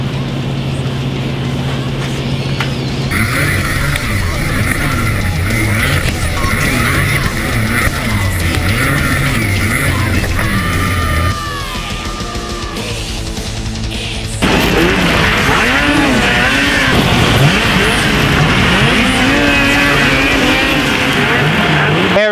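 Polaris snowmobiles running laps on a freshly snowed snocross track during a test session, engines revving loudly and continuously, rising and falling as sleds pass, with a brief lull before another loud surge.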